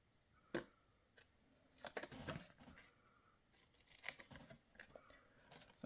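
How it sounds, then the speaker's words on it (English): Scissors snip straight through crinkly snack packaging in a few separate cuts with small plastic rustles between, close and fairly quiet. "so I will just cut this straight."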